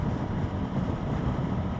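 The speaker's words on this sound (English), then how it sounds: "It's very windy. I didn't realize that windy." Steady, dense low rumble of strong wind buffeting a microphone while riding a Kawasaki Ninja 650 motorcycle, continuous and loud throughout, with no voices.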